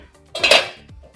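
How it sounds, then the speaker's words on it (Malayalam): A metal lid set onto a pot of simmering fish curry gives one short clanking clatter that rings briefly and fades. "ഇതൊന്ന് കവർ ചെയ്ത് കൊടുക്കാം."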